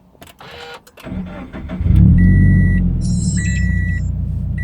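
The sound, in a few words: sports car engine idling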